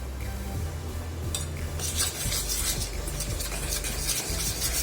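A utensil stirs chocolate cake batter mixed with powdered sugar in a bowl, producing close, continuous scraping and soft clinking strokes with no voices.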